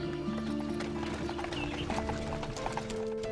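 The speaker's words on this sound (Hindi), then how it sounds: "घोड़ों और रथ की आवाज उनके पीछे से आ रही है।" Horses with a chariot clip-clop in a steady hoof rhythm, faint and somewhat distant, mixed with a low humming background and an occasional whinny.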